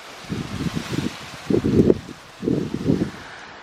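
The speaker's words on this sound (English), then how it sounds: "It's quite windy here," Gusty wind blows outdoors on a cool day, rushing in three strong low swells with rustling leaves between them, close and loud against the microphone, with no talking.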